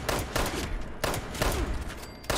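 Rapid bursts of gunfire from the video game Fallout 76, several volleys in quick succession, loud and close, with no one talking over them.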